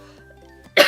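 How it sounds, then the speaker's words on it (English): A single harsh cough bursts out close and loud at the very end, after a quiet stretch of low hum. "so I'm so sorry for all the coughing"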